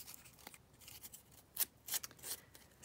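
Sandpaper rubs along the cut edges of chipboard in short, quiet scratchy strokes, a few brisk passes close to the microphone with no talking.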